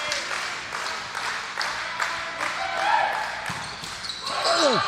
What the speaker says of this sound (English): the crowd going nuts